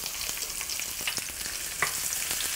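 Onions stir-frying in a pan hiss with a constant sizzle, punctuated by short scraping and stirring strokes at an uneven pace, heard up close.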